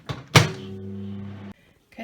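Microwave oven being opened to take out hot chocolate: a sharp door thunk followed by a steady low hum that cuts off, close by.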